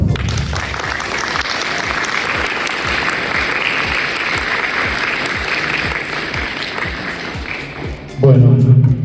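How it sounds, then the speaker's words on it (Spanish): A large audience applauds steadily at a Spanish-language talk on grammar, dense sustained clapping that stays loud throughout and ends with a voice beginning to speak. "Un aplauso."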